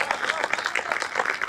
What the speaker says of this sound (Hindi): तालियां कमजोर है, पीछे तक सबकी तालियां उठे